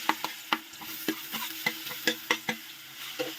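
Banana frying in hot ghee, soft sizzling under a quick, regular series of spatula taps and scrapes against the pan, close and fairly loud.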